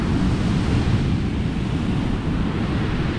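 Sea waves on Silecroft Beach in Cumbria, a steady loud roar of surf mixed with wind buffeting the microphone, continuous and close with no talk.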